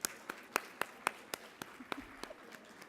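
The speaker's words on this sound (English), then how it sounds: "Can we give all of those sponsors a big round of applause" Scattered, fairly quiet clapping from a conference audience thanking sponsors at a healthcare conference, with distinct individual claps spaced out rather than a dense roar, fading toward the end.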